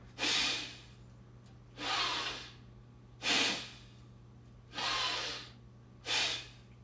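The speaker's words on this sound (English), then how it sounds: "the forceful inhale, the forceful exhale" Forceful pranayama breathwork: five sharp, loud breaths about every 1.5 seconds, each a harsh rushing inhale or exhale through the nose, close and alone over a low steady hum.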